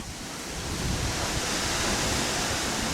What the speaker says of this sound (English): some wind getting up